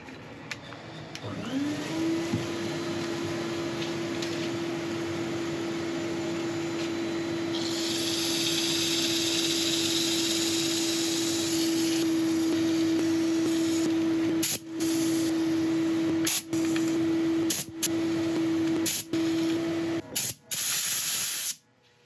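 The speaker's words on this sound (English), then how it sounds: "Right, I shall set up for sanding." A wood lathe whirs steadily with a sustained tone throughout while a thuya burl turning is sanded, a brighter hissing scrape joining midway, then stops abruptly near the end.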